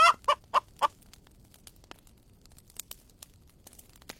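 A cartoon hen clucks after laying a golden egg, four sharp close clucks in quick succession, then quiet rustling and light crinkling noises.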